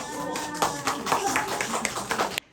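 A group of elderly students at a senior school in Seoul claps hands together in unison, a busy patter of overlapping claps that is close and fairly loud, with voices mixed in, before stopping abruptly.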